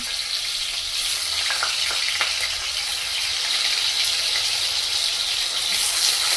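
Cut potatoes fry in hot oil for a temple-style mixed vegetable dish, giving a loud, steady, dense sizzle that fills the whole stretch without pause and with no talking.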